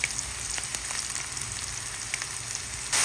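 Tomatoes sizzle steadily as they sauté in a pan with garlic, onion and ginger for ginisang monggo, a continuous close hiss with a few faint stirring clicks and a brief louder burst at the end.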